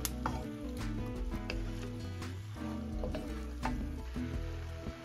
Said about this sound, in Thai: เราจะคั่วไปจนกว่าเส้นจะสุกนิดนึงนะคะ